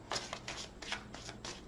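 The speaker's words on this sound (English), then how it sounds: "Off the top of the deck, 2 more shuffles." Tarot cards shuffled in a few quick riffling bursts, close and fairly quiet, with no voices.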